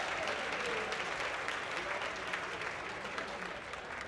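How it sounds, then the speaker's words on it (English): A room full of guests at a STEM fundraising auction breaks into applause after paddle bids. The clapping is dense and steady, holds at an even level for several seconds and slowly fades a little. "Give them all a big round of applause."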